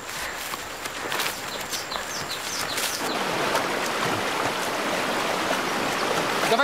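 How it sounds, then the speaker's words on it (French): River flowing outdoors, a steady rushing water sound that builds and stays close, with footsteps and faint birds around it. "J'entends la rivière, là."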